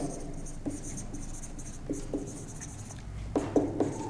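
Chalk or pen scratches in short strokes, written on a board or paper during a Class 10 biology lesson on reproduction. The writing comes in quick scratchy bursts against quiet room tone.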